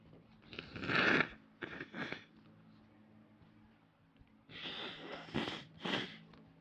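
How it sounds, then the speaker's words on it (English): A person blows their nose several times in short, forceful bursts, two near the start and two more after a quiet pause, close and alone. "I'm going to blow my nose."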